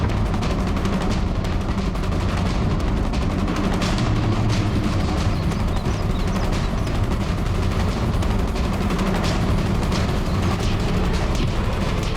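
Dense, continuous barrage of loud gunfire and booming blasts, overlapping rapidly with no pauses throughout.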